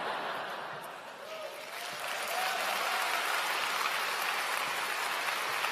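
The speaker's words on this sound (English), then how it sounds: "It is a little unfortunate that you have wasted time clapping" A graduation ceremony audience claps steadily, a continuous rain-like patter of many hands that swells slightly partway through and holds at an even level, with a faint voice briefly under it.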